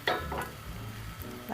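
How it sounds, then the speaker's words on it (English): A thin layer of egg sizzles softly in a pan for tamagoyaki, a quiet close hiss with a few light scrapes and clinks of a utensil. "Scoop in 1 thin layer of egg."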